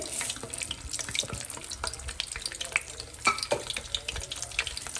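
Whole dry red chilies and curry leaves frying in hot oil for a tarka, a close, busy sizzle with spoon stirring and scraping throughout, no talk.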